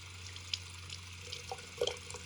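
Water from a hose running over the sunroof of an Infiniti G37, splashing with faint trickles and drips against a steady background hum.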